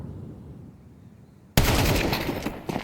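Counter-Strike gunfire in a pro match, a quiet lull broken by a sudden loud burst of close shots that stays dense and sharp to the end, with one more crack near the close.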